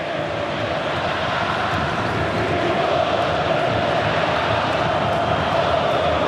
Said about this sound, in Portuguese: E a torcida do Fluminense acorda no Maracanã